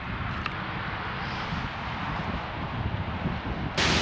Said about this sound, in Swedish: Det blåser, det regnar.